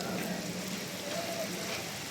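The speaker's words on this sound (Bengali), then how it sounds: "খুব সুন্দর একটা বৃষ্টি দুপুরবেলা" Midday monsoon rain falls steadily, a soft, even hiss of drops that holds at the same level from start to finish without any break.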